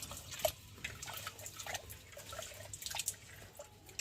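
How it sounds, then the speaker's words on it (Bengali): Rice grains swished and rinsed by hand in water in a home kitchen, giving soft, continuous wet sloshing and dripping with small splashy bursts throughout, fairly quiet and close, with no talking. "এখন আমি চাল ধুয়ে নিই চালটাকে ভালো করে"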